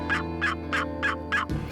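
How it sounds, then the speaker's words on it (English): A wild turkey tom gobbles in the field, a rapid rattling call of about five quick pulses, clear and fairly close, with no talking over it. "We know the hens are dragging a tom because he's sounding off every so often."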